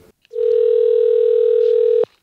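A steady telephone dial tone sounds right after a phone call is hung up, one unbroken loud tone lasting about two seconds alone before cutting off abruptly.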